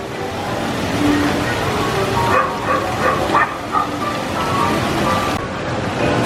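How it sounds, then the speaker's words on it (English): A theme park barking fountain at Universal plays a quick run of recorded dog barks and yips. The barks sound mid-distance over steady outdoor crowd and ambient noise. "I do love the barking fountain here."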